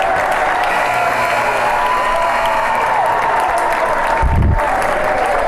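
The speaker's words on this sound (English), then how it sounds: "you can hear the fans start to clap as we hit 7 seconds" Basketball fans clapping in the closing seconds of a varsity home game, a dense, steady crowd roar and rhythmic applause filling the gym, with a brief low thump near the end.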